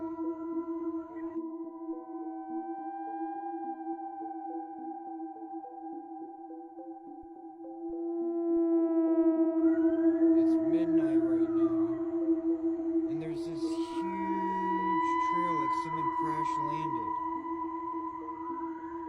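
Sustained wailing sirens with steady tones, later joined by rising and falling sweeps, loud and continuous, several overlapping from a distance in South Africa.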